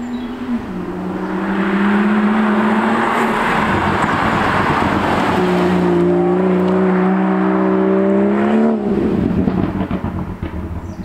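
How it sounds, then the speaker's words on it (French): A BMW 340i Performance six-cylinder engine in Sport Plus mode revs loud and close, its deep rough note climbing and holding through steady engine harmonics, easing back briefly, then rising again before dropping off near the end. "On a un vrai 6 cylindres qui chante, qui est rauque, qui est vraiment présent dans l'habitacle."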